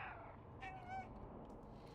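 A cat in the video game Stray gives a short, soft meow with a rising then falling tone, quiet and alone over a low background hum.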